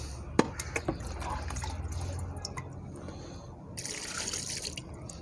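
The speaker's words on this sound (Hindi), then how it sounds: "अब इसमें हम डालेंगे पानी।" Water poured into a clay cooking pot in a village kitchen, sharp drips and splashes at first, then a steady trickling fill, close by, with no one talking.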